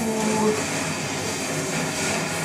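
Riding the railroad tracks in the video game Infamous Festival of Blood brings a steady, loud rumble of rail travel with a hissing wash and faint clatter, continuing without talk.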